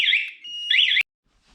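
A Spy 5000 motorcycle alarm gives loud, piercing electronic warbling tones in two bursts separated by a steadier tone, then cuts off abruptly into near silence.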